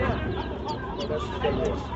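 Chickens and chicks cluck and chatter continuously in a dense, noisy flock close by at a livestock market, with overlapping calls throughout.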